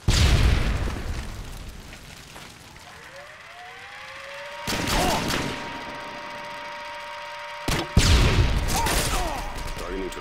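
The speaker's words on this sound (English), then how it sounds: "Dawson stun grenade." A stun grenade goes off in Call of Duty: Modern Warfare 2 with a loud burst, then a sustained high ringing tone. More sharp blasts and crackling bursts follow close by.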